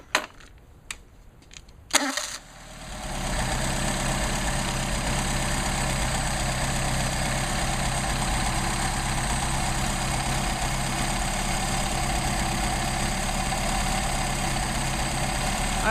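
Engine fitted with a rebuilt Solex carburetor starts after a few clicks and settles into a steady, slightly fast idle, a close, continuous low rumble with no talking.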